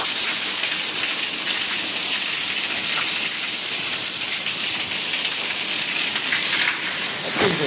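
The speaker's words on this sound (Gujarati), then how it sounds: "ખતરનાક જો અત્યારે વરસાદ" Heavy rain pours steadily in Junagadh, a dense continuous hiss close by with no break, slightly rougher toward the end, and no voices.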